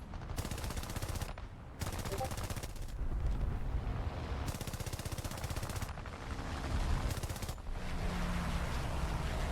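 Aircraft machine guns on a Spitfire F Mk IX in War Thunder rattle in long, dense bursts with short gaps between them, loud and continuous over steady engine roar.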